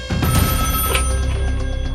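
A telephone bell rings loud and close in a continuous trilling burst, alone without speech.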